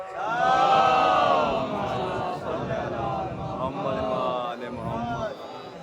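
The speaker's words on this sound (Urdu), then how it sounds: "آپ لوگ باواز بلند نعرے درود سے ان کا" A congregation at a majlis loudly chants slogans and durood in unison to welcome a maulana, a swelling collective chorus of voices that rises, holds and trails into quieter overlapping calls.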